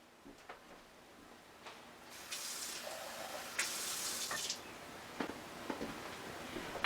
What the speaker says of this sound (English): I'm going to put a slight amount of water in here.